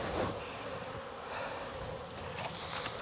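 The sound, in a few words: honey bees buzzing around apiary hives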